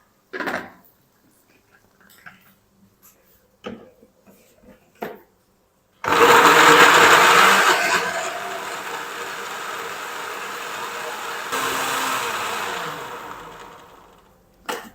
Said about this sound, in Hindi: लाल टमाटर को हम ग्राइंड कर लेते हैं, इसकी पेस्ट बना लेते हैं।